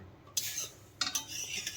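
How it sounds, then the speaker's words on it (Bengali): A spatula scrapes and clinks against a pan while paratha fries, with a few sharp metallic strokes over a quiet, steady background. "আমাকে কিন্তু এখন দেখো এই খুন্তি ধরতে হয়েছে আমি বসে বসে এখন পরোটা ভাজছি"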